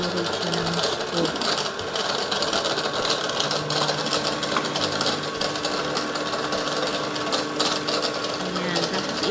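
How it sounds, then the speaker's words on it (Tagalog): Frozen bananas being crushed in a kitchen machine for a banana bread pudding, a loud continuous motor whir and grinding rattle that holds steady throughout, close and dominant. "Ilagay natin sa ating machine para madurog siya ng scoop"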